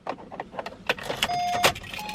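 A car key jingles on its ring and slides into the ignition of a used car, sharp metallic clinks and rattles up close, followed by a brief electric whine.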